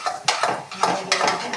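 A spoon stirs carrot pudding cooked in ghee in a metal pot, making close scraping, clinking strokes in an uneven rhythm with a faint sizzle underneath and no talk.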